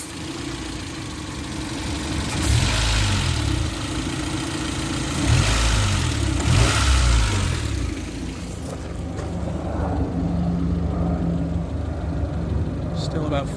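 A car engine with a detached pressure regulator vacuum hose idles, then swells in several revs as gas is applied, rising and falling under steady engine noise while people talk nearby.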